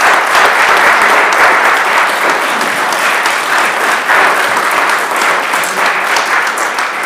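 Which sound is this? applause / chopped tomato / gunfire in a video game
applause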